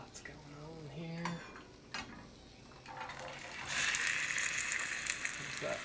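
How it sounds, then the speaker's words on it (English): Beans in olive oil sizzle in a pan as they are stirred, quiet scraping and clinks of a utensil giving way to a steady, louder hiss of frying. "There's that sizzle."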